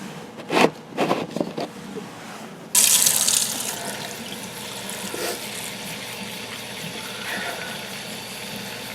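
A water tap turned on in a homestead basement to fill a cat's water dish, with a brief clatter of handling, then a sudden steady hiss of running water that continues close and unbroken.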